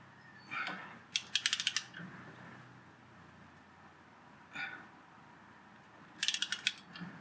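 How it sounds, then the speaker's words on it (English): A torque wrench clicks while tightening a Studebaker disc brake fitted with Ford and Chevy parts, giving two rapid bursts of sharp ratcheting clicks with a softer tick between them, close and fairly quiet in a hushed workshop. "This torque wrench doesn't give very confident clicks."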